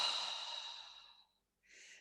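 A long, slow breath out during guided meditation, a soft airy exhale that fades gradually, then after a brief pause a quieter breath begins, close and alone with no speech.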